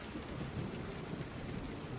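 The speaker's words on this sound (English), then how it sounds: "Oh, it's raining." Steady rain pours outdoors with a low rumbling thunder undertone, a continuous, fairly faint wash of falling water and distant storm noise, no voices.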